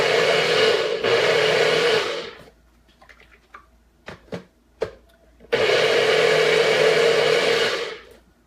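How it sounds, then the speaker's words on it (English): A NutriBullet blender mixes granola bar ingredients in two loud, sustained bursts of whirring, separated by a quieter gap filled with light clicks and knocks as the cup is handled. "So I'm going to mix this up here in my NutriBullet."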